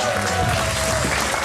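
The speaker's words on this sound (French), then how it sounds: "Merci d'applaudir cette émission avant de l'avoir vue." Studio audience applause greeting a television show host, a dense, steady wash of clapping filling the whole brief moment.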